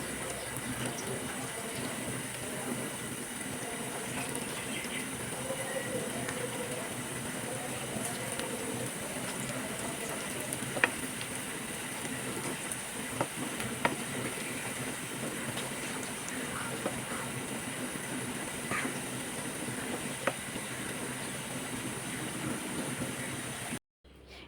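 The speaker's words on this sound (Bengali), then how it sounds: "এই পাশও 2 মিনিট মতো ভেজে নিচ্ছি।" Snacks deep-frying in a pan of oil, a steady, even bubbling hiss lasting the whole stretch with a few faint clicks of turning, no talk, ending abruptly.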